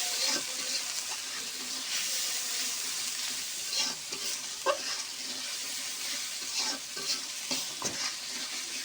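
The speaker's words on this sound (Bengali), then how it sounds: "লবণ দিয়ে ভালো করে কষাই নেব মশলাটা" Spice masala with turmeric and salt fried and stirred in a pan for a rohu fish curry with okra: steady close sizzle with repeated scraping stirs and occasional clinks, no talking.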